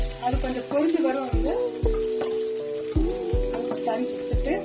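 Onions and curry leaves frying in a pan, a steady sizzle broken by repeated sharp stirring knocks and clinks of the spoon against the pan.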